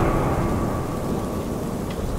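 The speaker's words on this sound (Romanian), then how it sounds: "Plouă afară," Steady rain with a low thunder rumble fills the Slender-Man Mansion game soundscape, a constant dense wash of falling water with no talking over it.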